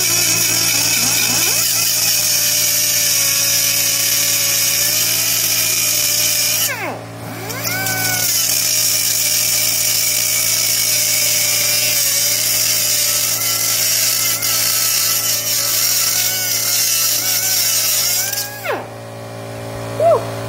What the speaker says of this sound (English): we're going to sharpen them using a Dremel, angle grinder, anything you have. I'm just gonna use probably a air pressured angle grinder.